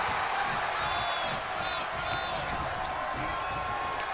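Arena crowd in the wrestling video game WWE 2K24 during a battle royal, a steady distant roar of spectators with faint whistles and cheers rising and falling under a commentator-free stretch.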